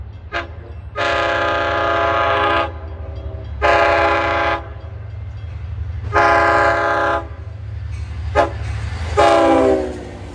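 An LIRR DM30AC's K5LL horn sounds in a series of long, loud, authoritative chord blasts with short toots between, over a steady low rumble.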